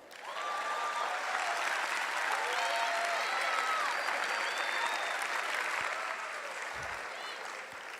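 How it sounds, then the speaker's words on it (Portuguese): Sustained audience applause fills the room at a steady, dense level for several seconds, with whistles and voices faintly mixed into the crowd noise. "Aplaudam."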